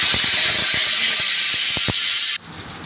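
Tomato paste hits a hot pan for a Bengali egg and pointed gourd curry, giving a loud, steady hiss that holds for over two seconds, dotted with faint clinks, before cutting off abruptly to a quiet background.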